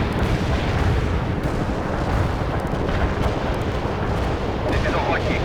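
An artillery barrage roars in the video game World in Conflict as a continuous loud rumble of explosions and booms that fills the whole stretch.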